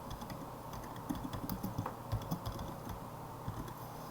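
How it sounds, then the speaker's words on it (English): A name being typed on a computer keyboard, with soft close key taps in an irregular quick rhythm, faint and alone. "What we need you to do is click agree and type in your name."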